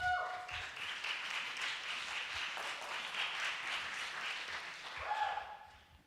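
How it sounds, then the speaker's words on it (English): Audience applause for the next contestant at a university finalist presentation, a moderate, steady patter of many clapping hands, with brief tonal music sounds at the start and near the end. "please help me with a big round of applause for the next contestant"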